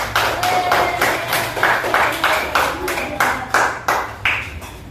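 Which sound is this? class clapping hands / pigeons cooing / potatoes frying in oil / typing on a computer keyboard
class clapping hands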